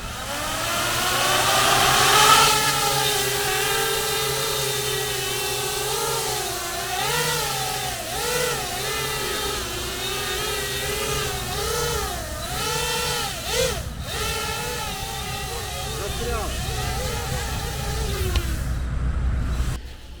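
A small FPV drone's motors whine steadily with high, buzzing harmonics, pitch rising and dipping repeatedly as it maneuvers carrying a payload, staying fairly loud throughout.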